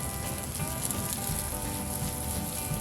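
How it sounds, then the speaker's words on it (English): Bacon wrapped around chicken sizzles steadily on a hot grill, a close, continuous crackling hiss with small pops and no talking. "You can hear the bacon sizzling on here"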